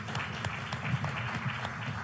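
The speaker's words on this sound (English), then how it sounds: "Let's give them a round of applause." Steady applause from an audience after a Bloomberg G20 panel in Bali, a dense continuous patter of clapping with no pauses for about two seconds.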